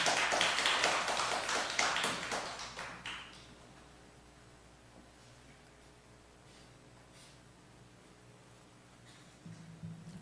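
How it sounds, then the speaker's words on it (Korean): A small audience at a theology school talk claps to welcome a speaker in a brief burst of scattered hand claps that fades within a few seconds, leaving a quiet room. "이번에 이옥훈 권사님 박수로 맞이해 주시기 바랍니다"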